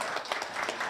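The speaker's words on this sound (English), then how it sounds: "Let's give them a big round of applause" Brief burst of applause at a stock exchange listing ceremony, a short, dense patch of crowd clapping.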